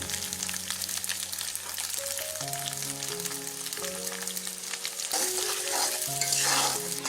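Spice masala frying in a pan for chui jhal chicken, with a steady close sizzle and stirring under background music that grows louder toward the end, no speech.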